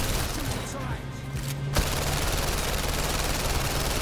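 Rapid gunfire in the PSVR Worlds London Heist video game, a dense, loud burst of automatic shots that breaks off briefly and then resumes as a continuous barrage.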